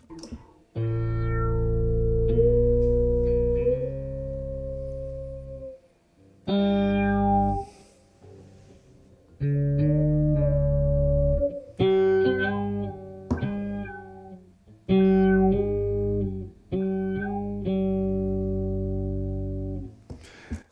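Electric guitar through an Electro-Harmonix POG 3 octave pedal playing sustained chords and phrases, with a thick, layered octave effect adding lower and higher voices behind the notes, loud and close.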